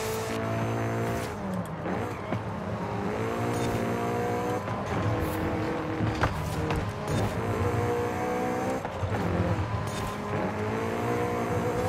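A 1974 Honda Civic RS engine revving very high while driving, climbing toward about 10,000 rpm in repeated rising pulls with gear changes, loud and close throughout.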